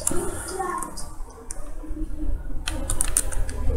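Light typing on a computer keyboard during a Ctrl F search in an Excel tutorial, a few soft scattered keystrokes in a quiet room with short gaps between them.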